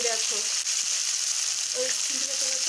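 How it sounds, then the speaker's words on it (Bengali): Bhetki fish bones coated in salt and turmeric fry in hot oil, a steady broad sizzle that stays loud throughout with faint stirring or clinks underneath. "মা দেখো কাটা ভাজতেও দিয়ে দিয়েছে।"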